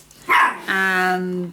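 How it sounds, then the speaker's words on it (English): Dogs barking nearby indoors during a scrapbooking mini album walkthrough, a sharp bark followed by a longer tonal bark or yelp, loud and close, with a brief spoken word just before. "sorry for the dogs"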